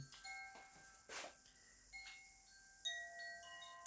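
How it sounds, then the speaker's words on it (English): Koshi chime bells ring close by, giving a soft, sparse cascade of clear metallic tones that strike several times and decay gently in a quiet room. "If you imagine how you feel when you listen to these koshi bells."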